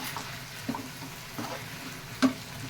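A spoon stirs a thick cabbage Manchurian gravy in a hot pan, giving a soft, steady bubbling sizzle with a few scraping strokes, the last one louder.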